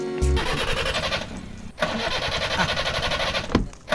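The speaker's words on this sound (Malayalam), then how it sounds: "എഞ്ചിൻ നടക്കുന്നുണ്ടോ എന്ന് ചെവിയോർത്ത് നോക്കിയാലേ അറിയാൻ പറ്റത്തുള്ളൂ." A car engine cranks repeatedly and struggles to catch in a film scene, with rough churning bursts broken by a short pause and ending in a final sputter, close and fairly loud.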